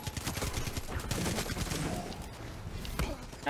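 Sustained enemy gunfire rains on the player in Far Cry 6, a dense continuous rattle of shots with scattered impacts and footsteps, loud throughout the whole stretch.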